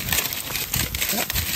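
Crackling wood campfire outdoors in Dividalen, Indre Troms, with dense continuous crackle and scattered sharper pops, steady and close, no talk.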